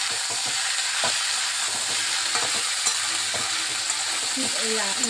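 Red chusa fish with salt being stirred in a frying pan, a loud continuous sizzle with repeated scraping strokes of the spatula, close and alone without talk.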